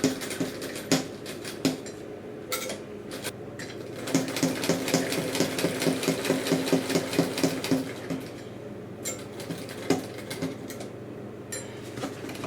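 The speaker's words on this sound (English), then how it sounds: "it's just a matter of sewing a box stitch all the way around" A sewing machine stitches a box stitch on fabric in quick rattling bursts, pausing and restarting several times, with a dense run of rapid needle clatter in the middle, close and clear.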